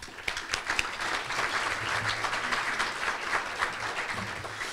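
A luncheon audience at a Pasco chamber of commerce event applauds steadily for about five seconds, a dense wash of clapping at moderate volume throughout.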